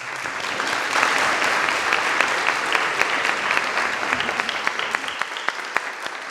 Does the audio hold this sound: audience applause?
yes